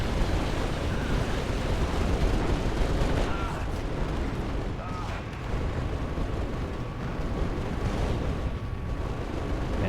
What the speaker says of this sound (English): That's ZFK coming in with the chain guns.